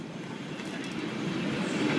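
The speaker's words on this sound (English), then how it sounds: "An old classic train." An old classic train rolls past, a close, steady rumbling clatter of wheels and cars that grows slightly louder over a couple of seconds, with no clear talking.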